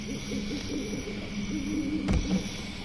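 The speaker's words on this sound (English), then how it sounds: "I can hear birds." Owl-like hooting birds call in the background at the Hexx compound in the WWE 2K19 wrestling video game, low repeated hoots over a steady ambient bed with one brief sharp knock.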